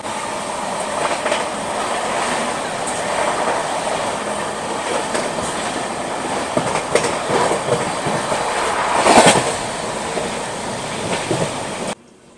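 A passenger train on a long Agartala–Bengaluru run rolls steadily with continuous rumbling wheel noise and rhythmic clickety-clack from the rail joints, heard from inside a carriage, before cutting off abruptly near the end.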